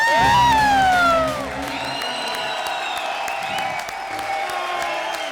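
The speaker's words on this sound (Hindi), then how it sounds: "तुम भी ताली बजाओ" A studio audience at a Holi-themed comedy show claps and whoops after a brief burst of music, the applause holding steady and fairly loud with cheering voices mixed in.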